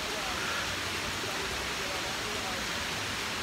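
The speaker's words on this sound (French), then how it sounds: "Oh, la cascade elle est là." Steady, dense roar of the Kpalimé waterfall in Togo, a broadband rush of falling water that fills the whole stretch at an even level without pause.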